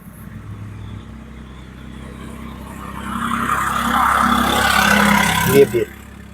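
A car engine rises in pitch and loudness as the driver lets out the clutch and moves off in beginner traffic driving, the hum building steadily over a few seconds with a brief bump near the end.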